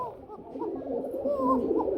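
Fancy pigeons kept for sale coo softly with low, rolling calls repeated over a couple of seconds, close by and moderately quiet.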